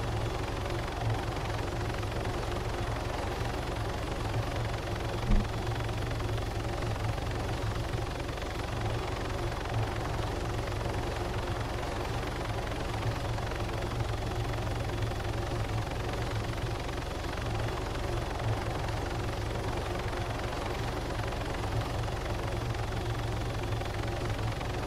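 Helicopter engines in a video game hold a steady, moderately loud whirring drone with a low pulsing undertone that runs unbroken, with one brief sharp click partway through and no speech.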